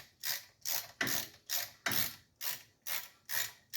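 A hand ratchet loosens the brake caliper bolts on a squarebody Chevy, eight or nine evenly spaced clicking strokes in quick rhythm, close and clear with no talk.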